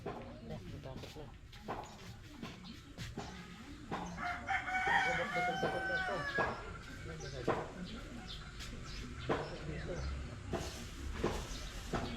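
A chicken crows clearly in the middle, a drawn-out rooster call over a busy outdoor background of clucks, clatter and occasional voices.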